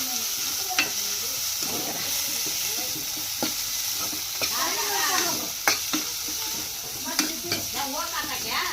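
Sprouted beans sizzle in a pan while a spoon stirs and scrapes them, giving periodic sharp clinks over a steady frying hiss, with a voice talking faintly nearby.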